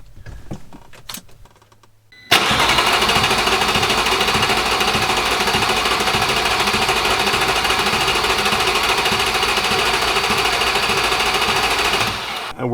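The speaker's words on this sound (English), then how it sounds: "I'm gonna give it extra cranks this time" Audi S4 B7 engine cranking over on the starter with no start, a steady loud rhythmic chug lasting about ten seconds after a short quiet handling noise.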